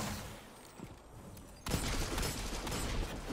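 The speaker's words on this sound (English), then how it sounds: "that last hand cannon shot didn't connect" Hand cannon fire in the Destiny 2 video game: after a quieter stretch of game ambience, a dense, loud run of shots and blasts starts midway and carries on to the end.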